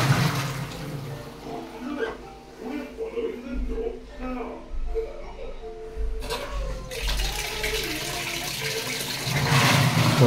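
A washing machine with a new controller board and water sensor fills with water at the start of its wash, a steady rushing flow with gurgling, close by, with someone talking over parts of it.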